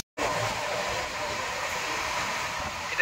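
An SMVT Bengaluru to Howrah superfast express runs along, a steady close rushing rumble of the moving train that starts abruptly and holds for a few seconds.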